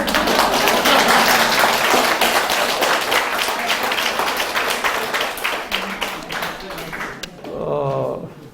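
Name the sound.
audience applause at a forum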